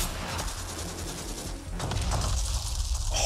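Rapid covering gunfire in a video game at E3 2017 rattles in dense bursts with mechanical clatter, continuous and fairly loud, building slightly toward the end.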